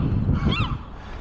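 A bird, likely a goose or similar fowl, gives a single honking call near a sailboat mast high above a boatyard, rising and falling briefly over steady wind noise.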